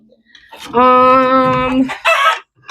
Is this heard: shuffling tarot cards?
no